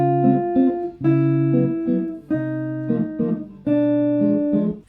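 A guide tone line over the chord changes, sustained pitched chords and single notes changing every half second or so in steady phrases, clear and close with no talking.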